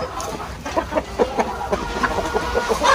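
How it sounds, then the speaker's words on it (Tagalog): Caged farm chickens clucking in a rapid, irregular series of short calls, moderately close, with no talking. "Yan yung pag-aalaga po ng mga manok po na kulong."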